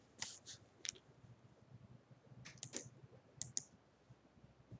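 Quiet, close keystrokes on a computer keyboard, a few isolated taps followed by short clusters of clicks.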